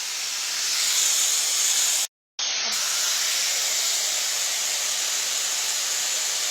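A hair styler with adjustable heat settings, turned up very hot, blows a steady loud hiss of air, cut off by a brief dropout before resuming evenly.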